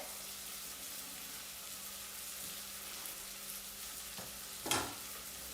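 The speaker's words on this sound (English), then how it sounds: "I'm just going to add the spices and let them cook for a few minutes." Spices and garlic sizzle steadily in a pan for pumpkin soup, a soft, even crackle with a brief clatter of stirring near the end and no talking.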